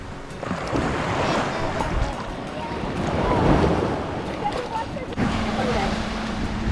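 Sea waves wash steadily onto a beach at Malvan on the Konkan coast, a broad continuous surf roar mixed with wind buffeting the microphone, fairly loud throughout with no distinct breaks.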